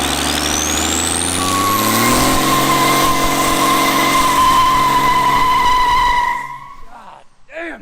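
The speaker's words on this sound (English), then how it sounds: "Let's hear you light it up again." Cummins diesel-swapped Ford Mustang revving hard in a sustained burnout, a loud engine roar with rising pitch and tire squeal that drops away after about six seconds, followed by brief voices.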